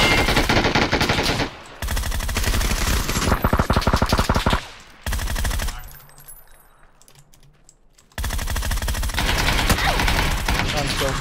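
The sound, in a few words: gunfire in the video game PUBG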